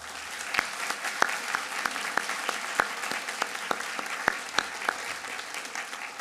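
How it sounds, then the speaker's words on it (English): An audience at a pharmacy white coat ceremony applauds steadily, with a broad wash of clapping punctuated by sharp, distinct nearby claps at a moderate volume, and no talking. "if you could please recognize them with a round of applause tonight"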